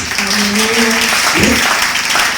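A church congregation applauds and cheers for Jesus, dense loud clapping filling the room continuously, with a voice briefly rising over the crowd.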